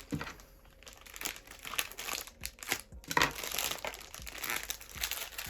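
A dense plastic bag, one bag nested inside another, crinkles and crumples loudly as it is handled and torn open while unpacking a lost Ukrposhta parcel, with irregular crackling bursts throughout and no talking.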